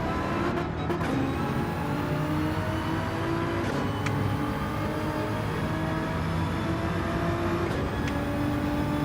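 A car laps the Nordschleife in Gran Turismo 7. The engine drones at a moderate, even level, with a few sharp transient clicks and whooshes and a faint high whine over it.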